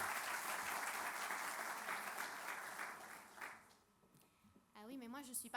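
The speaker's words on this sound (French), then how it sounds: "On l'applaudit." Audience applause at a teachers' gathering, dense and sustained clapping for several seconds before fading out, followed by someone speaking near the microphone.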